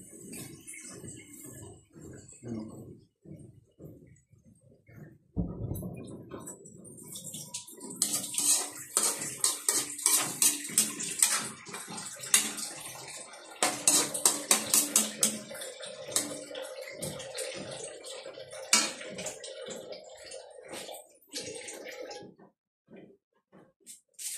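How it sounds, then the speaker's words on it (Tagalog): Water poured into a pan of taro leaves while cooking, a broad splashing and trickling wash that starts abruptly and continues steadily, with clinks of utensils and pan sounds scattered throughout. "Lagyan natin ng konting tubig mga par para lumambot yung dahon"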